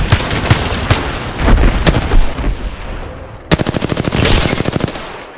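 Rapid automatic gunfire in an Apex Legends match, loud close bursts of shots, then a fast even string of rounds after a brief pause, with a voice speaking in places.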